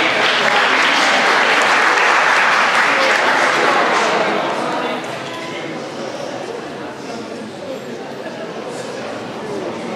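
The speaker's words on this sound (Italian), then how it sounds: "un applauso ai ragazzi dell'Istituto Fermi" An audience at a poetry event applauds students from the Istituto Fermi: sustained, dense clapping, loud at first and easing slightly midway, with no voices over it.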